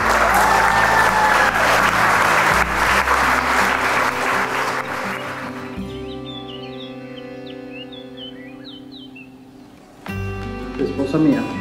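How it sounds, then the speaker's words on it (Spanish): Wedding guests applaud the newlyweds at a church ceremony, a loud burst of clapping that fades into music and chirping tones, then picks up again near the end. "Les damos un fuerte aplauso."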